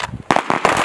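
Sharp pistol shots ring out at a U.S. Army small arms championship firing line, three loud, close reports in quick succession after a brief lull, each with a short echoing tail.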